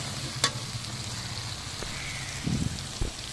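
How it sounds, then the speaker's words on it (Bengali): Spices with turmeric and garam masala being stirred in a frying pan, a constant soft sizzle with a few scraping clatters of the spoon near and clear. "তারপরে ভালোভাবে নেড়ে চেড়ে নিচ্ছে আম্মু"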